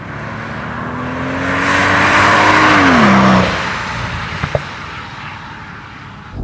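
A 2005 Mercedes SL 65 AMG with a 6-litre V12 biturbo engine pulls away with a loud rising engine note that swells, then drops sharply as it lets off, followed by a couple of faint clicks.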